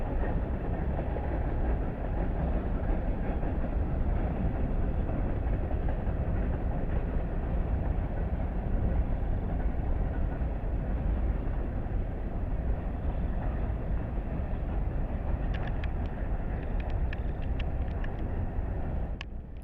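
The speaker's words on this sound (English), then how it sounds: "we then saw a BNSF train coming from the other direction" An eastbound BNSF grain train on the Chillicothe subdivision crosses a bridge over the Ottumwa subdivision, making a loud, continuous rumble of wheels and railcars that lasts the whole stretch, with faint clicks near the end.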